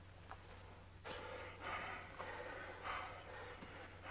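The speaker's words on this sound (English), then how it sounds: "Anyone else hear loud, muffled, heavy breathing?" Heavy, muffled breathing up close, several long rasping breaths in and out, loud against a low steady hum.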